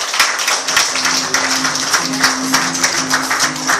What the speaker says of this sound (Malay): Tepukan bayaran juga untuk Sifu Mazlan kita